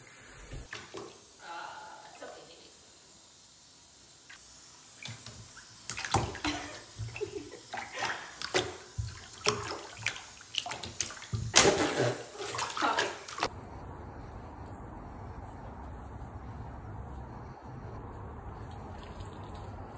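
Water running into a tub for a dog's bath, preceded by clattering, splashing and handling noises, then settling into a steady, even rush of running water for the last several seconds.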